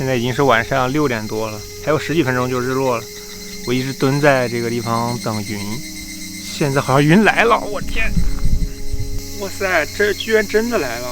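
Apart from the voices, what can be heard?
cicadas and insects buzzing on a mountainside at dusk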